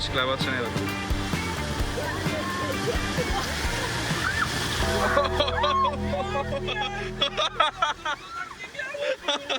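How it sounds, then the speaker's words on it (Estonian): Rapids on a boat ride splashing water over the boat, a loud rushing, sloshing wash that breaks into choppy splashes, with voices chattering and calling out over it. "Uus kosk ja see on täpselt meie peale."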